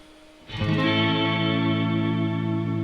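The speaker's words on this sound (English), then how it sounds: "it really works great with the reverb" An electric guitar chord rings out after a brief quiet moment, sustaining with a wash of reverb and a gentle wavering vibrato from a floating tremolo.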